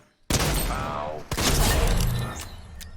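A Heisted Breacher shotgun fires a headshot in Fortnite: one sudden loud blast followed by a sustained crackling, shattering burst and a second impact about a second later, close and dense.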